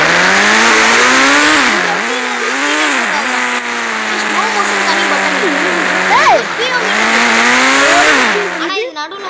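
A racing-game engine roars continuously and loudly, rising and falling with gear changes as the car accelerates, with tire squeals near the end; a voice is heard talking over it.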